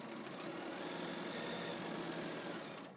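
A sewing machine runs steadily while chain piecing fabric, a continuous close whirring hum that holds for nearly three seconds before easing off at the end.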